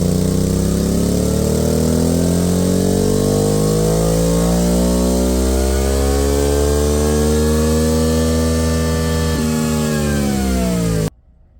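Honda Transalp motorcycle with a slip-on exhaust and tuned ECU revs on a dyno, engine note climbing steadily through a long loud pull before cutting off sharply at the end.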